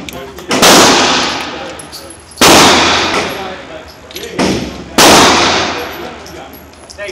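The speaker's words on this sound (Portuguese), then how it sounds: "agora eu vou atirar um pouquinho aqui da bala" A real gun fired three times in slow succession, each shot a sharp, loud crack followed by a long ringing decay, about two seconds apart.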